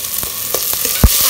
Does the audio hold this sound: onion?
yes